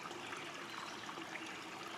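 Hawkshole Creek runs beneath a bridge in spring woods, a steady soft rush and trickle of moving water with a continuous wash of noise and no break.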